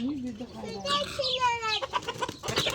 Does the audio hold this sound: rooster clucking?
yes